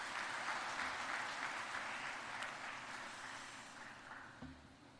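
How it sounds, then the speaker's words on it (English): Dense, steady applause from an audience at a university inauguration and orientation session for first-year undergraduate classes, a continuous wash of many hands that gradually thins and fades toward the end. "Please give them a huge round of applause."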